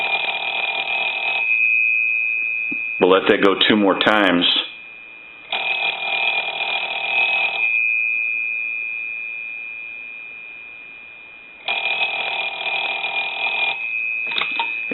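Western Electric 317 wood wall telephone bell rung by a line analyzer, sounding in long, steady, shrill bursts of about two seconds separated by pauses, with someone speaking briefly between rings.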